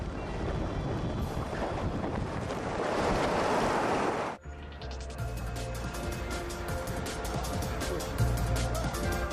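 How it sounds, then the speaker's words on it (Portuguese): Typhoon wind and surging waves at a sea bridge construction site off China's coast, a loud roaring wash of wind and surf that cuts to a harsher, gusting roar with rattling noise. "surge outra poderosa força da natureza: os tufões."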